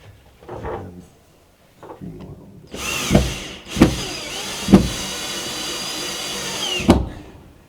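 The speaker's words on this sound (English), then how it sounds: "I'm just working my way around the window now, putting the screws in" A screwdriver drives screws into a window's clamping ring during window fitting, giving several short whirring bursts of moderate loudness with quiet gaps and small handling knocks between them, and no voices.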